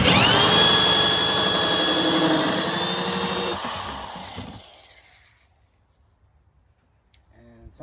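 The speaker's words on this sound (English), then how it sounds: "you really want to be over the container and have good leverage before you start drilling" A power drill bores holes through the plastic lid of a 7 gallon tote, a loud, steady whine with grinding for about four seconds before cutting off and fading into quiet handling sounds.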